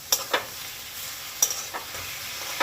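Ginger garlic paste being stirred and sautéed in a pan, with a steady low sizzle and a few sharp, scraping stirs spaced through the clip, no voices.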